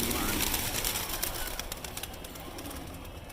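Pigeons coo and call from a rooftop loft in Delhi, kept for pigeon flying, a steady close chorus of bird sounds over constant outdoor hiss that fades slightly toward the end.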